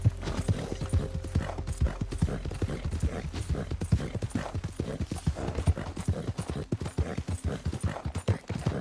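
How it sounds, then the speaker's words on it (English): Horse hooves clip-clop in a steady, brisk walking rhythm in Red Dead Redemption 2, clear and fairly close throughout, with no talking. "Oh, horse."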